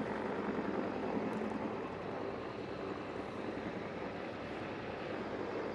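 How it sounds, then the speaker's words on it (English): Several CH-46 Sea Knight military helicopters lift off together at a Marine aircraft demonstration, a loud, steady broadband rotor and turbine roar that stays constant throughout. "Enjoy the simultaneously liftoff with the CH-46 Sea Knights"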